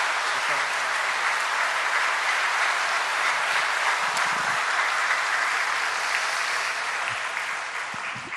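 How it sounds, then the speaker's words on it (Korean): Sustained, dense applause from a church congregation at an evening revival service fills the space evenly and loudly, holding steady throughout with only a slight tapering near the end. "우리 목사님 위해서 한번 큰 박수로 고마운 감사,"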